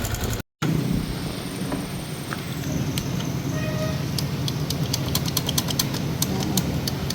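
A secondhand car's engine idles steadily close by with a faint, irregular ticking knock running through its low rumble.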